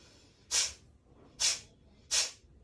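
Three forceful breaths are pushed out through the nose during a breathing exercise, each a sharp hissing exhale separated by short pauses, close and clear over a quiet background.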